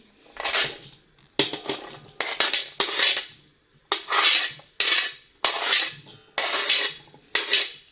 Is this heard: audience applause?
no